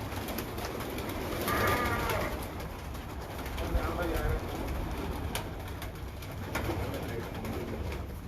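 Pigeons cooing on a rooftop, soft repeated coos from nearby birds over steady outdoor background noise, with people talking throughout.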